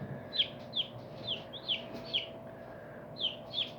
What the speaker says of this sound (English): there's chickens.